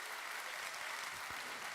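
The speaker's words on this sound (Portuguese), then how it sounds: "Quem pode dar outro aplauso ao Senhor?" A church congregation claps for the Lord during a sermon, a steady continuous wash of applause filling the room with no voices over it.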